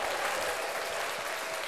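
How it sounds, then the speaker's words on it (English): A short burst of audience applause and hand clapping during a casual group talk show, steady and dense for under two seconds with no voices over it. "Can we get a hand clap from Mariah"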